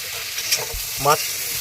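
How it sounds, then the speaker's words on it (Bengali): Potatoes are sautéed with spices in a hot pan, giving a close, steady sizzle broken by a couple of brief scraping stirs. "আলু কষানো চলছে"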